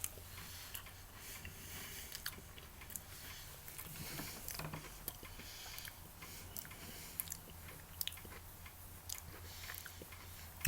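Soft, close chewing and crunching of a lemon creme Oreo cookie, faint and continuous with small bites and mouth noises, no talking.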